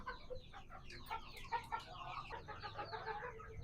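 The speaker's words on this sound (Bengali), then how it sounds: "এখানে কিছু দেশি মুরগি আছে" Several native desi chickens cluck and murmur nearby in a coop, a busy overlapping chatter of short clucks, fairly quiet, with no talking.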